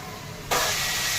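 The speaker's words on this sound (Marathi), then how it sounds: "तेल टाकलेलं आहे कढईमध्ये त्यामध्ये आता या कांदा टाकून फरकून घ्यायचा" Onion hits hot oil in a kadhai: quiet at first, then a sudden loud, steady sizzling hiss that continues to the end.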